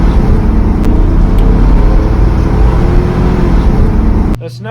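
A 2003 GMC Yukon XL with a 5.3 liter V8 and 3.73 gears accelerates, its engine a steady, loud, close drone that holds for several seconds before it suddenly drops away at the end.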